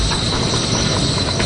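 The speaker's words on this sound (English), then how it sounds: "now the train, the whole train, is floating in midair 10 millimeters above the track" Maglev train gliding along a test track, floating about 10 mm above the rail, heard as a steady, loud broadband rushing hum with no distinct wheel clatter.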